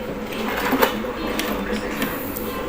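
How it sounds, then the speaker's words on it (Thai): A repaired electric fan runs after its speed fault is fixed, producing a steady whirring mechanical drone with faint rhythmic ticking and rattle, close by, with some low background voice. "พัดลมหมุนแรงขึ้นเยอะเลยครับ"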